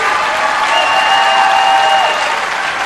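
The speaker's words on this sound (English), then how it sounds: "If we get a big round of applause for our Pioneer High School prospector seniors." A basketball crowd applauds high school seniors in a gym, a loud, even roar of clapping held for a few seconds with scattered cheers and whistles.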